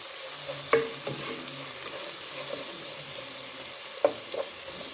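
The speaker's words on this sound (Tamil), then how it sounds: "இதை நல்லா கலந்து விடுவோம். நல்லா வெங்காயம் வதங்கட்டும்." Onions being stirred and sautéed in a pan while pipe fish is cooked, with a steady low sizzle, scraping stirs throughout and two sharper utensil knocks against the pan.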